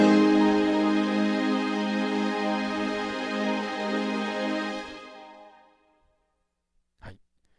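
A lush synthesized string pad holds a sustained chord, then fades out into silence, followed by a brief faint sound near the end.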